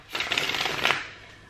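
A deck of tarot cards shuffled by hand, one brief crisp burst of rapid riffling close by that fades quickly into a quiet room.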